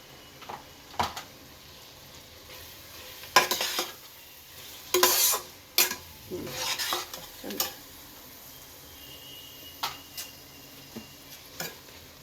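A tomato, garlic and dried chilli purée goes into a pan of frying mutton, with a soft sizzle underneath and a few sharp spoon scrapes and clinks against the pan, irregular and close.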